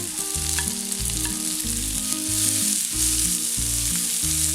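Chopped onion and capsicum sizzle and crackle steadily in a hot pan on high heat, a close continuous fry with rhythmic stirring scrapes throughout and no talking.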